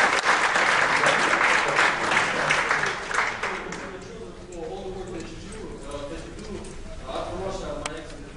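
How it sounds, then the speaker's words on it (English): Dense applause from an audience at an evening talk fills the first few seconds, then thins into scattered clapping and crowd murmur with voices underneath. "that deserves a round of applause"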